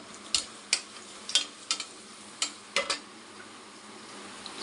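Onions with salt fry in a pan for mushroom biryani, heard as quiet sizzling broken by about eight sharp stirring scrapes and clinks of a spoon against the pot.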